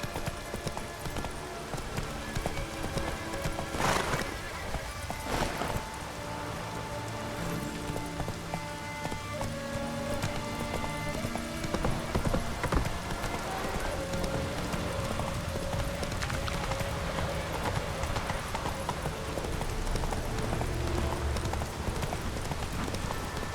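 Roach the horse galloping in The Witcher 3, a rapid continuous clip-clop of hooves that runs the whole way through under a rain-like wash of ambient game sound, with music faintly beneath.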